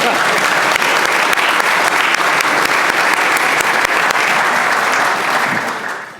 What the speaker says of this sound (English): you're welcome to applaud now if you like